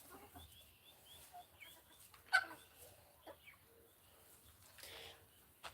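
Rooster clucking on a farm, a series of short soft calls with a few sharper squawks, fairly faint among quiet background farm noise.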